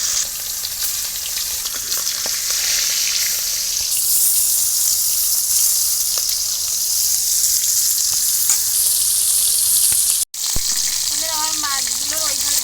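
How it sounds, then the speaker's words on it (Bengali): Pangas fish pieces sizzle loudly and continuously in hot oil in a home kitchen, with a brief cut near the end and a voice talking faintly over the frying. "আমার তেলটা গরম হয়ে গেছে, এবার আমি এক এক করে মাছগুলো ছেড়ে দেবো"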